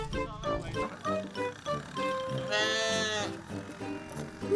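A sheep bleats with a wavering, drawn-out cry partway through, mixed with other layered tonal sounds and background voices.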